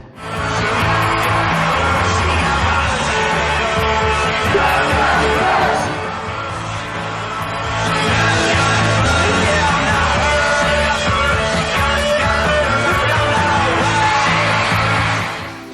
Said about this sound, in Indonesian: suara penonton yang teriak-teriak di sebelah Anda